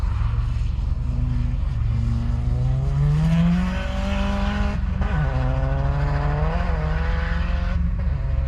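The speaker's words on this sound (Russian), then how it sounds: "Форик едет." A Subaru Forester rally car drives hard on a snowy rally sprint stage. Its engine drones loud and steady, and the pitch climbs and falls as it shifts gears throughout.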